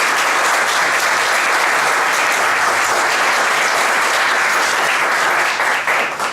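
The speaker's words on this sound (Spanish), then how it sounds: "a quien le damos la bienvenida con un aplauso" A conference audience gives dense, loud applause welcoming minister Margarita Luna Ramos, a sustained wash of many hands clapping that holds steady for several seconds before easing slightly at the end.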